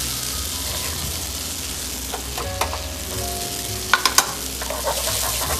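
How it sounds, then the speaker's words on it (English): Sweet potato rösti sizzles steadily in hot oil in a pan, a loud, continuous crackling frying hiss with a few sharper pops and spatters near the end. "And we cook both sides to a golden brown color"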